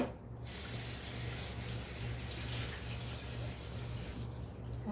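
Tap water runs steadily into a kitchen sink while a counter is washed, a continuous close broadband splash and hiss with no talk over it.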